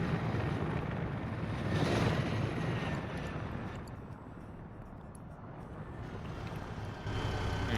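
Steady rotor drone of a helicopter in Arma 3, a loud, continuous whirring that swells and eases slightly over several seconds.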